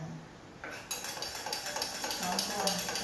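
A measuring spoon stirs cocoa powder in a cup or pitcher for hot cocoa, giving close, continuous scraping and light clinking that grows busier partway through.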